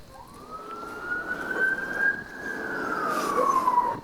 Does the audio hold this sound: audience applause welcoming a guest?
no